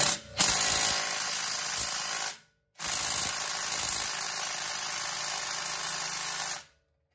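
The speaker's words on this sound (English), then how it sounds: "This little electric impact that I'm using, it's a DeWalt." A DeWalt electric impact wrench loosens wheel hub bolts on a BMW Z3/E36/E46, giving two loud, sustained mechanical hammering bursts of about two and six seconds, split by a short pause, with no talking.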